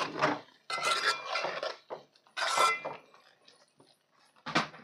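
A spoon clanking and scraping against a metal pan while meal maker and tomato curry is stirred with salt, coming in several short, close bursts separated by brief quiet gaps.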